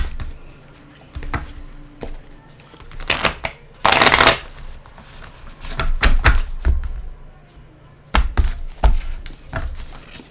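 Oracle cards being shuffled by hand, a series of soft papery riffles and taps in irregular bursts with a louder flurry partway through, close and quiet, no talk.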